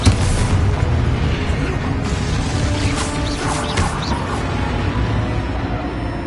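Spell blasts and impacts from Hogwarts Legacy, a dense run of booms, crashes and thuds layered over constant rumble, with a few sharper bursts near the middle and faint voices mixed in.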